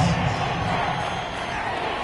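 A home crowd in an American football video game roars loudly on a key third down, a dense, steady wall of cheering and whooping that holds for the whole moment.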